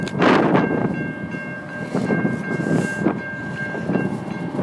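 An old CN SD60F freight locomotive rolls past near a house, a loud continuous rumble of wheels and rail clatter with recurring rhythmic clunks and a steady tonal whine, close and sustained throughout.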